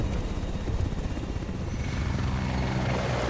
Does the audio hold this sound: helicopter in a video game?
yes